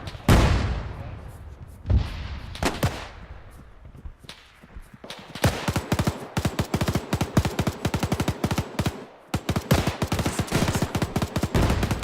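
Dense rapid gunfire from a WWII video game battle, bursts of automatic fire and single shots cracking in quick succession, loud and close, with a quieter lead-in of scattered distant shots.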